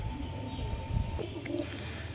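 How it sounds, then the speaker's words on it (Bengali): Pigeons kept in a home loft coo softly in low throaty rolls, several birds overlapping against a steady background hum, with a faint chirp from another bird. "এটা মেন ধাড়ি পায়রা দাদার ধান্যবালা।"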